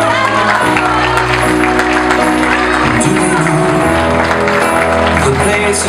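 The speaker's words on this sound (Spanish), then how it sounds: "Fuerte los aplausos." Audience applause and cheering at a celebration as a father-daughter first dance begins, a dense, steady wash of clapping and crowd noise running throughout, blended with loud music and voices.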